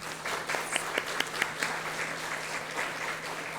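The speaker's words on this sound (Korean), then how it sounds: "우리 일어나서 인사할 때 한번 박수로 환영하도록 하겠습니다." A church congregation applauds to welcome newcomers, a fairly faint patter of clapping with a few sharper claps near the start that then settles into a softer, thinning round.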